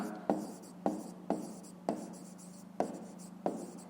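Pen writing on paper during a 5th-grade maths exercise: six distinct scratchy strokes at steady, slightly uneven intervals, close and fairly quiet, with no talk.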